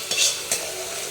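Boiled banana flowers stirred in a pan of hot oil: a brief close sizzle with two quick scraping stirs of the spoon against the pan, with no speech.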